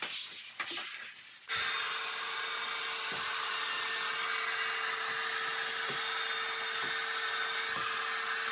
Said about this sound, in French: ça va être d'utiliser mon séchoir à cheveux parce que je vais chauffer la colle